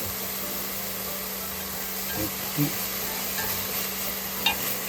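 Beef cut for soup stir-fried in a pot for seaweed soup makes a steady, even sizzle, with a few light spoon knocks against the pot toward the end.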